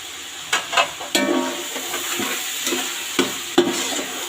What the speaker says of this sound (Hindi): अब हम इसमें ये 3 अदद गाजरें थी मेरे पास, इनको मैंने स्लाइसिस में काट लिया, वो हम इसमें ऐड कर देंगे।